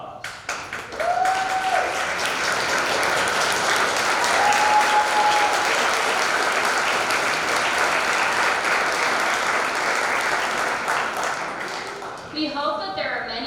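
Sustained audience applause fills a pageant hall as former scholarship contestants stand to be welcomed, steady and dense throughout, with a few short cheers and whistles rising above the clapping before it thins near the end.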